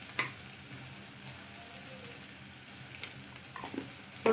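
Spices and filling sauté in hot oil for stuffed capsicum (shimla mirch), a soft continuous sizzle broken by a few sharp clinks and scrapes of stirring, heard alone without talk.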